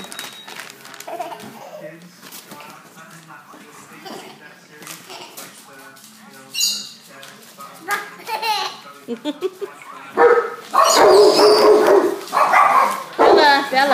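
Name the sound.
dog barking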